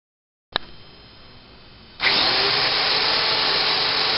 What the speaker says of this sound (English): This is my Black & Decker power drill.